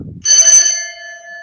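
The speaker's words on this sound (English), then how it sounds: "Ghost hunting bell device." A ghost hunting bell device ringing in the video game Rimworld: one bright metallic strike that rings on as a sustained, loud, sharply pitched tone, starting just after a brief low rumble.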